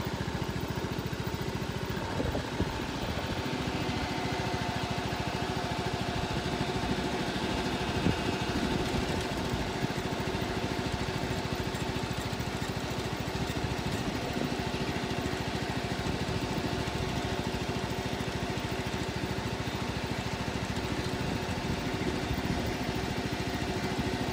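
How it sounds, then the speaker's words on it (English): A riding lawn mower engine runs steadily for the whole stretch, a continuous mid-pitched rumble with faint rattles and vibration, fairly close. "let's start up the lawnmower and move it"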